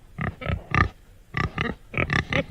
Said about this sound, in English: It was a pig.